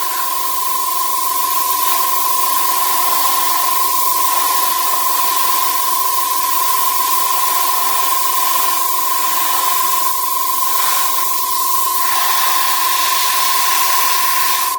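An airbrush sprays paint onto model German WWII jerry cans in a steady, continuous hiss that holds nearly unchanged throughout, with a constant whine running alongside it.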